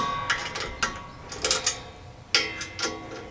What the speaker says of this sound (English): We're still using the same 9/16 for all the 3/8 bolts. So I'm also gonna retighten